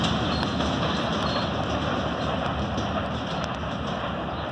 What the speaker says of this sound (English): The whole train going around that curve from right there.